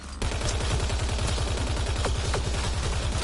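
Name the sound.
shooting at remnant bots, from the video game Mass Effect Andromeda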